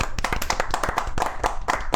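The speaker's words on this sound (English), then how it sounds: "can I just give you a round of applause for that, RP?" Steady clapping from a small group of hands at a Dungeons & Dragons game session, brisk and close, with overlapping claps throughout and no voices.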